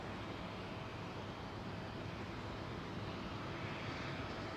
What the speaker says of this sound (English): The Dreamliners will use as much runway as well as is humanly possible